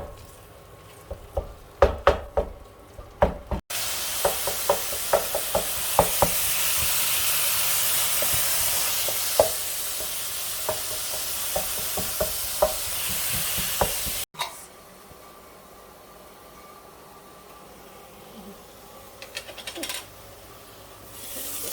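Minced meat for lasagne sizzles loudly in a hot pan while being broken up and stirred, with a steady frying hiss and scraping clicks, then the sizzle quiets to a softer background hiss near the end.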